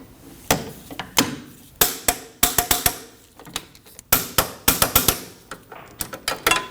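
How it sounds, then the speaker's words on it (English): Torque wrench on the rear wheel hub bolts of a 2003-2006 Subaru Baja, giving a series of sharp metallic clicks in irregular bursts, close and loud in a quiet garage. "we can torque these to 58 foot-pounds"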